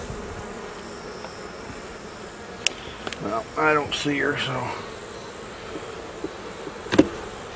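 Honey bees buzz steadily around an open hive box outdoors, a close droning hum under a man's speech, with a few clicks and knocks.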